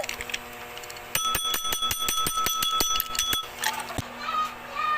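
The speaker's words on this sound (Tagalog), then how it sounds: "May doorbell!" A bright, metallic bell rings in a fast repeated trill for a couple of seconds, fairly close, with faint talk around it.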